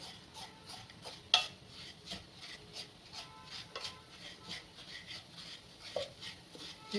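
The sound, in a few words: stirring melting jaggery syrup in a pan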